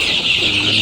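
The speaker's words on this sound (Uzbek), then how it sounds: "2800 jo'jamiz bor" Dense chirping of about 2,800 chicks in a poultry house in Asaka, Andijan, a steady high twittering chorus filling the whole short moment, close and continuous with no voices.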